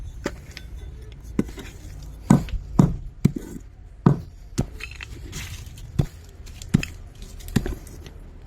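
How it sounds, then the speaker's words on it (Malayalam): A small hammer tapping stones loose, sharp distinct knocks repeated at an irregular pace, about a dozen close clicks and thuds over a quiet background. "ചെറിയ ഹാമർ ഒന്ന് തട്ടി ഇളക്കിയിട്ട് കൊടുത്തോണ്ടിരിക്കുക"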